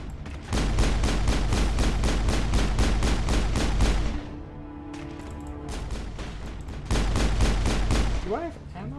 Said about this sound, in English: Where am I being shot at from?